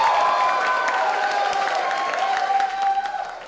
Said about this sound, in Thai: ขอเสียงปรบมือดังๆให้กับโนสุดยอดสแตนด์อัพคอมเมดี้ครับ